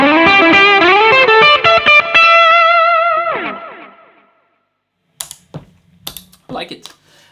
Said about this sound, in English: Let's try with a overdrive pedal.